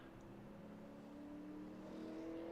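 A race car on a qualifying lap at the Nashville Fairgrounds speedway hums steadily in the distance, its engine note rising slightly as it builds speed, faint and continuous with no talk.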